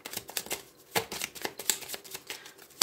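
Lenormand cards shuffled by hand for a divination reading: quick, papery riffles and flicks in an uneven rhythm, close and clear, with no speech over them.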